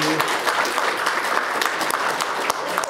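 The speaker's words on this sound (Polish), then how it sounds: "Bije brawo, bo to nie jest mój pomysł." Dense, steady hand clapping fills the whole stretch, loud and close, with individual claps blurring into a continuous patter and no talk over it.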